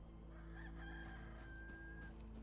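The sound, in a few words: rooster crowing in the video game Enshrouded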